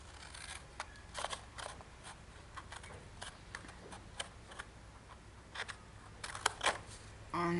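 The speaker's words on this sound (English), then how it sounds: "So then we're going to get our scissors" Scissors snipping through paper while making a gift box, in a quick, irregular series of sharp close cuts, with a brief pause midway and a soft rustle at the end.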